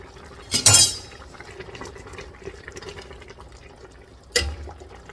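Turkey skin dropped into a pot of Southern turnip greens with smoked turkey: a close wet splash and clink near the start, a steady low simmering murmur, then a second splash near the end.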